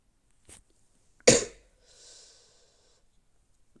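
A single sharp cough from a person who is a little sick, close and fairly loud, followed by a soft breathy exhale or sniff, with short quiet gaps around it.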